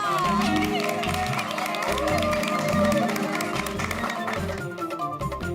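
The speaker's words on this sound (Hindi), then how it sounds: "तो तालियों से स्वागत कीजिए बावरी जी का" A studio audience claps and cheers to welcome a guest on a Hindi sitcom set, with music playing underneath and voices over the top throughout.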